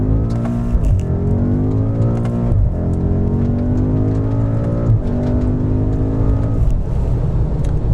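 BMW M5 F90 in MDM Sport mode launching at full throttle from a standstill, the engine note climbing loud and close through several upshifts, each marked by a brief dip before the pitch rises again, with a steady whirring roar throughout.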